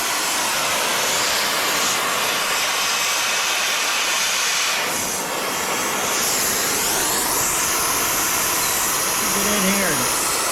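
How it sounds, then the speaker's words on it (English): A torch heating a stuck pump jack engine part, a loud continuous roaring hiss that runs steadily for the whole stretch, close up, with no talk. "this is going to require a little bit of heat."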